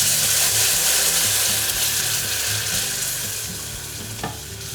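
Milk being stirred into a vegan béchamel of wheat flour in a pan, giving a loud, dense frying hiss that slowly eases toward the end, with a low rhythmic rumble and a single clink.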